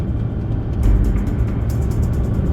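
A 2016 Chevy Colorado Z71 4x4 with a Duramax diesel climbs a snowy mountain pass. Its engine drones low and steady from inside the cab, with a continuous deep rumble and road noise throughout.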